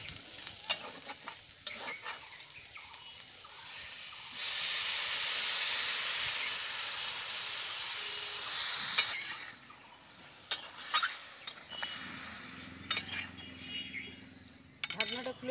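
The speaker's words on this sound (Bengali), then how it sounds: "আলু ও পেঁয়াজটা ভাজা হয়ে গেছে, এবার দিয়ে দেব পরিমাণ মতো জল।" Water poured onto fried potatoes and onion in a pan for a poppy-seed dish sets off a loud hissing burst of steam and sizzle midway, framed by sharp clatters of stirring and utensil knocks.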